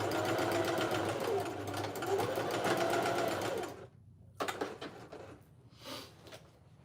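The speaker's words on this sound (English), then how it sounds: "I need a bigger throat plate sewing machine" A sewing machine stitching a patch onto a leather jacket runs in a steady, close mechanical whir, stops, then gives a few short bursts, with a voice faintly audible.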